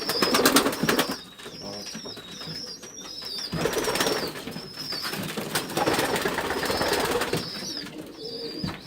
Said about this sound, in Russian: самец наш местный сизый голубь